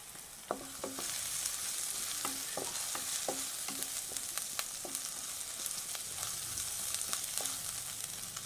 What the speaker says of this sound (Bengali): তো ভালোভাবে একটু নাড়িয়ে নেবো, যাতে আদার যে গন্ধটা সেটা চলে যায়